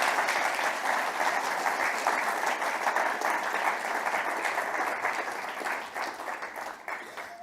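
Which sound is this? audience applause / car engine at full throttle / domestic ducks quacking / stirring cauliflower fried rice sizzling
audience applause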